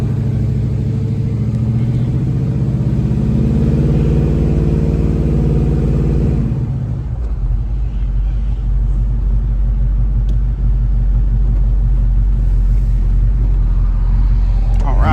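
A 1971 Chevrolet Chevelle SS convertible engine rumbles loud and close, a deep idle that settles into a steady driving drone with a heavy low roar throughout.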